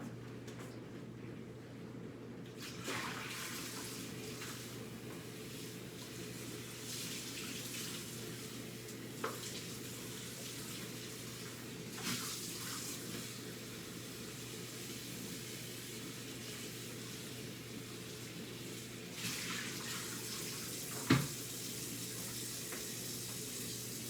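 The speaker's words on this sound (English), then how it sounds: "now it's time to rinse off the fish one more time" Tap water running steadily while milk fish is rinsed, a soft continuous hiss with occasional faint clinks and splashes, fairly quiet throughout.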